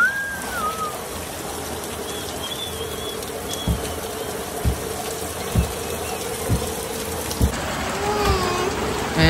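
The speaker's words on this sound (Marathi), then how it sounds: "बघा लाडू पहिली बार पाऊस बघते" Steady rain falls in the open near a large jamun tree, a dense hiss with occasional heavier drip or thud impacts at regular intervals, continuing alone without talk.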